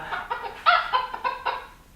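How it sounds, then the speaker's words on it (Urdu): A hen clucks in a quick series of short, close, fairly loud calls that taper off toward the end, with no talking. "دجاجۃ یہ مرغی ہے، اسے مرغی کہتے ہیں۔"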